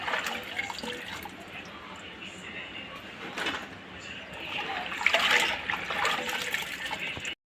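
Mango pieces for pickle being rinsed under water, a steady broadband wash of running and splashing water lasting throughout, growing a little louder near the end, with faint voice in the background.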